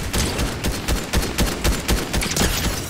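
Rapid gunfire in Fortnite Zero Build, loud, dense bursts of shots cracking in quick succession with no talk over them.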